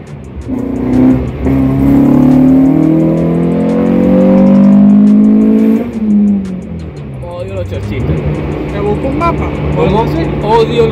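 A Renault Clio Sport 172 engine revs hard and loud as the car accelerates, its pitch climbing through the gears, dropping at a shift and rising again, while people talk over it inside the car.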